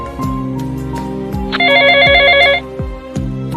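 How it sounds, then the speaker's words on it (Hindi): An outgoing phone call rings once, a bright warbling electronic tone lasting about a second over a loud, plucked musical backing with repeating low notes. "फोन क्यों नहीं लग रहा है? मॉम को कॉल करता हूँ।"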